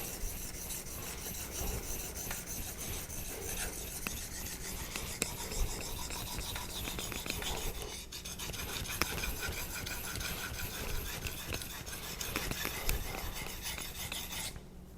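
A convex knife blade scraped steadily across a Naniwa diamond whetstone, producing a continuous dense rasping, rubbing texture at close range with no voices.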